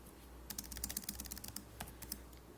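Quick, light keystrokes on a computer keyboard as math equations are typed into MS Word, a short irregular burst of close clicks over a low steady hum.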